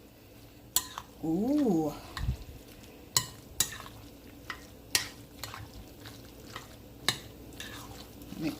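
A spoon scraping and clinking in a pot while mixing oxtail and vegetables, scattered knocks and wet stirring sounds at irregular intervals, with a brief exclaimed voice early on.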